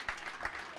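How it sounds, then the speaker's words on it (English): A crowd applauds honorees at a celebration of women breaking barriers in public service. The clapping is brief, soft and somewhat distant, with a few louder claps standing out from the general patter. "let's have a huge round of applause for all of our honorees."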